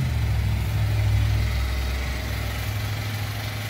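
A Champion 7000-running-watt inverter generator runs steadily nearby, a constant low engine hum with a smooth droning tone and no pauses or talk.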